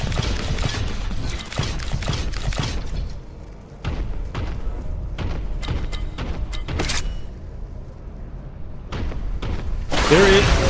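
A heavy bolt gun in the video game Warhammer 40K: Boltgun fires in a rapid string of loud, punchy shots with mechanical clanks, then pauses and fires again, with gameplay noise underneath.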